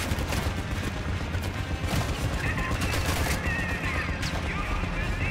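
Dense, continuous anti-aircraft gunfire and explosions fill a Call of Duty DMZ video game battle against a Hind helicopter, rattling loudly throughout with a voice talking underneath.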